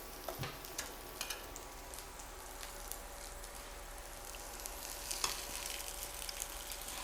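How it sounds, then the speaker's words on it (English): Fish fries in a pan with a soft, continuous sizzle and occasional crackling pops, faint and steady, with no voices. "So I'm going to add it into my pan fry."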